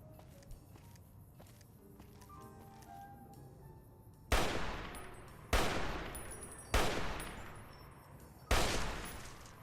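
Gunfire in Fallout: New Vegas: after a quiet stretch of soft steps and ambient tones, four loud, sharp shots ring out about a second or more apart, each with a fading echoing tail.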